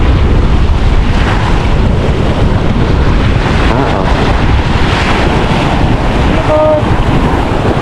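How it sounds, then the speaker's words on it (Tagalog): A small boat on the open sea, with strong wind buffeting the microphone and the wash of waves filling the whole stretch as a loud, constant roar. "Maliit pa naman yung bangka na yun."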